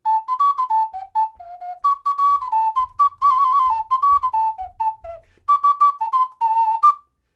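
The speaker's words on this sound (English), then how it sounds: "since I was doing the Aztec wind whistle from ancient Mexico" A breathy Aztec wind whistle from ancient Mexico plays a simple wavering melody of short notes and slides, close and clear, with brief pauses between phrases.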